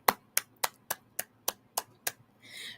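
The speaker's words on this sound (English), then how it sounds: "give yourselves a warm round of applause." Eight sharp, evenly spaced claps from a single pair of hands, close and quiet, followed by a brief soft hiss.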